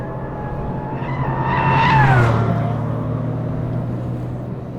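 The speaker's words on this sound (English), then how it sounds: "Nice little progressive oversteer from the Corolla." A 2024 Toyota GR Corolla on a race track swings through a fast off-camber corner in progressive oversteer, its tires squealing as a rising screech that peaks mid-slide over the steady engine drone, then eases away.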